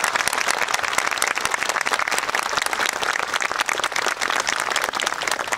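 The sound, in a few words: audience applause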